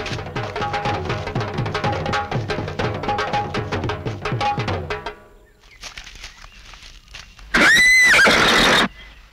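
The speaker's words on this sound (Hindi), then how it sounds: "ये घोड़े बांध दो" Horses are heard around a royal sultan's court, with rhythmic clip-clop hoofbeats and movement for several seconds, a quieter pause, then a loud, bright whinny rising and falling near the end.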